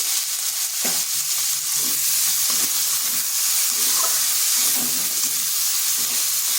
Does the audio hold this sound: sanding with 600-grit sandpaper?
no